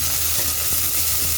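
Chopped small onions sizzle steadily and loudly in hot oil for Chettinad-style mutton kuzhambu, a dense even frying hiss heard up close with no voices.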